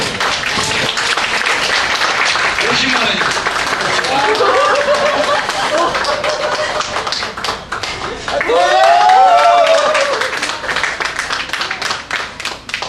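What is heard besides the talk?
applause at a gathering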